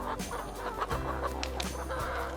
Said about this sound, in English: Farmers still regularly feed chickens natural grains manually.